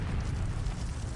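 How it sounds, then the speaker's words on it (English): Explosives detonate and a building collapses inward during fighting in the Russia-Ukraine war, heard as a dense, continuous low rumbling roar, loud and unbroken for about a second. "The explosives go off, and the building literally folds inward."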